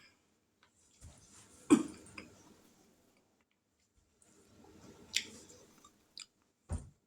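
Someone chewing a bite of homemade chicken bacon ranch pizza, soft close-up mouth sounds in short bursts with a couple of sharper clicks, otherwise quiet.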